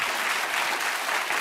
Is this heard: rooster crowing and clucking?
no